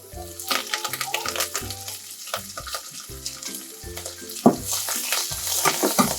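Coriander and mint leaves sizzle in hot oil in a pan for Hyderabadi bagara rice, a loud steady frying crackle with stirring, over background music.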